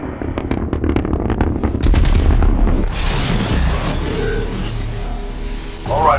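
A Titan drops from the sky in Titanfall 2 and slams down in a heavy booming impact, preceded by rapid gunfire bursts and followed by a roaring rumble, then mechanical whirs.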